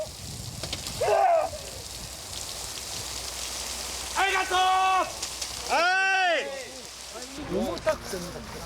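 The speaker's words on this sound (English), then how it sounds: "Shooting a whole day in the rain is tough." Steady rain falls during an outdoor film shoot as a continuous hiss, while voices with rising, sing-song pitch speak and call out intermittently over it.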